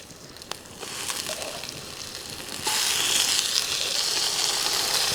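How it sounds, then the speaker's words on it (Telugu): Sustained close sizzle of a kilo of chicken frying in a pan with onions and ginger-garlic paste, growing louder partway through as the pieces hit the hot oil, with light stirring scrapes and no talk. "మనం కడిగి పెట్టుకున్న 1 కేజీ చికెన్ వేసుకుని బాగా కలుపుకుందాం"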